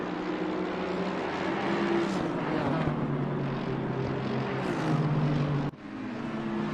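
Mercedes-AMG and BMW GT race cars battling in a racing video game at Barcelona, a steady loud engine drone with a shifting pitch and a brief dip near the end, no talk.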